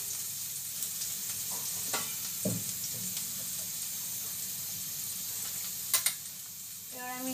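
Whole cumin seeds tempering in hot oil, a soft steady sizzle and hiss with a few faint clinks and stirring taps, quiet and close.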